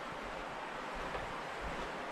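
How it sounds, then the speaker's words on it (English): The river outside Roaring Stag Hut rushes in a steady broadband roar, loud and continuous with no voices over it. "showing you the river."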